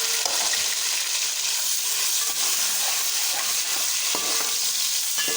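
Onions frying in hot oil with whole spices give a loud, steady, even sizzle that runs the whole time, with no talking.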